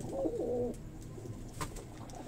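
A breeder pigeon gives one short, soft, close coo near the start, and then only faint background noise remains.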